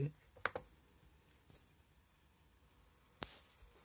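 A computer mouse clicks sharply a few times: a quick double click near the start, a faint tap midway and a louder single click later, close and dry against quiet room noise.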